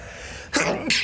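A single sharp human sneeze bursts out after a short quiet intake, close and loud, followed by a second breathy release, amid faint room background.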